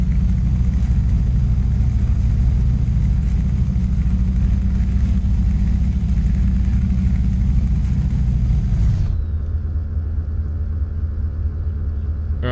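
A DAF Euro Wing truck in Euro Truck Simulator 2 cruising in third gear: a steady, loud low engine rumble that drops to a quieter hum near the end, with no talking.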